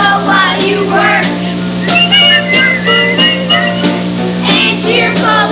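A person whistles a cheerful melodic tune, the clear sustained notes rising and falling in a steady rhythm over a low constant hum.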